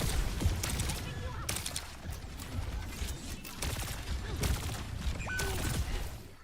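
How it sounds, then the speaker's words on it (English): Juno firing torpedoes in Overwatch 2 gameplay, a quick run of sharp launch bursts and mechanical clicks mixed into busy game noise, with a voice talking over it. "You're just using your torpedoes for fun."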